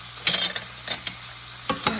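A vegetable stir fry with kelp noodles hisses quietly in a pan, with a few short bursts of scraping and clatter as it is moved around. No one speaks.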